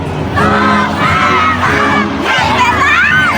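Children shout and sing together loudly in a crowded room at a Children's Day event, voices rising and falling in continuous excited bursts.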